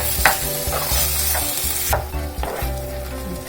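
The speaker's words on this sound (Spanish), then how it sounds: "Mezclamos bien." Sauce stirred into a pan of pork chop stew with mango and habanero, loud close sizzling with repeated spoon scrapes and stirring strokes, no voices.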